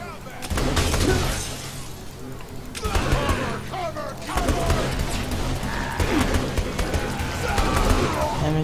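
Combat gunfire in the video game Saints Row 3, loud repeated shots mixed with shattering crashes throughout, with voices talking over the action.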